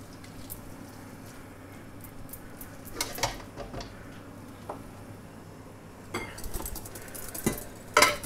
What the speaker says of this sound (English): So what we want to do now here is just heat all this spaghetti up